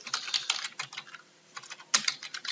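Quick bursts of keystrokes on a computer keyboard as a folder name is typed, clattering in two clusters with a brief pause between, close and moderately loud, with no speech.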